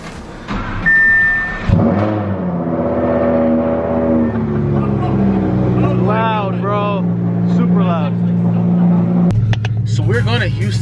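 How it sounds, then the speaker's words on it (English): A car's engine cold-starts with a cranking burst and a loud catch, settles into a high idle, then gets a few sharp revs, with people talking nearby. "So just got my keys and let's get a cold start."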